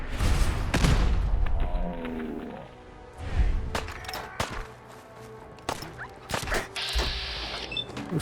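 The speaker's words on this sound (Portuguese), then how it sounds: "Vou usar o lança-mísseis" Missile launcher fire in Fallout 4's Far Harbor, heavy booming blasts and explosions with sharp repeated gunfire cracks scattered throughout, loud and close, with a short stretch of quieter rumble between impacts.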